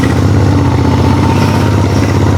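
A motorcycle engine idles close by on a mountain road trip near Chopta, a loud steady low throb that holds evenly throughout with no talk.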